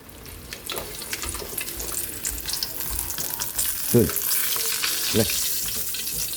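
Milkfish (bangus) fries in a pan, a continuous close crackling sizzle with bursts of spattering and a couple of short tonal clinks partway through.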